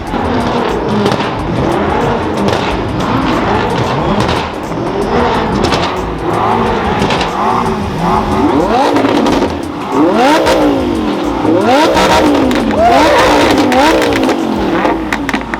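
McLaren 720S engines rev and roar past continuously at a Crown Rally West launch party in Denver, rising and falling pitch with sharp accelerations and a brief tire squeal, loud and close.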